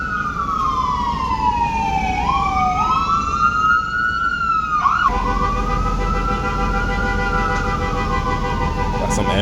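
A loud ambulance siren wails close by behind a bus, sweeping down and up in long tones before switching to a steadier rising and falling wail over traffic rumble.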